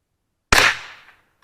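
A single sharp, loud crack from a Savage Model 64 .22LR semi-automatic rifle fired at a shotgun shell, with a short decaying echo and no talking.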